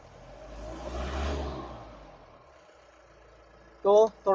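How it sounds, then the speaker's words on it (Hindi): A car engine with a faulty accelerator pedal, slowly swelling in revs and then easing back down as the throttle responds late, heard up close; a voice speaks briefly near the end. "आप आवाज़ सुनो इंजन का"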